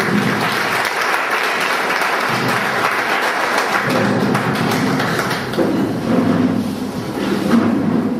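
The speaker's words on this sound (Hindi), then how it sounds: "मैं सभी से निवेदन करता हूँ कि जोरदार तालियों से उनका स्वागत करें" Loud, sustained applause from a large audience welcoming a speaker at a Swadeshi event, the dense clapping rolling on steadily throughout with a few heavier thumps and no talk over it.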